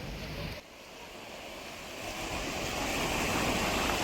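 Surf washes steadily along an Abu Dhabi beach on a humid day, a soft continuous hiss of waves that dips briefly and then builds gradually louder, with wind and no voices.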